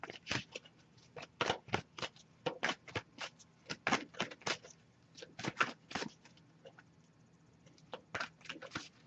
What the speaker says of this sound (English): Alright, I'll give it a few more shuffles